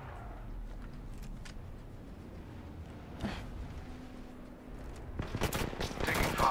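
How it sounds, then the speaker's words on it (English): Gunfire in the battle game Apex Legends, a steady, dense clatter of shots and bursts that thickens near the end into louder, closer volleys. "We're getting shot from every side"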